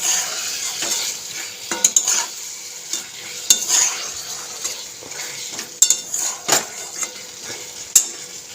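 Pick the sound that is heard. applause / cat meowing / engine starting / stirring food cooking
stirring food cooking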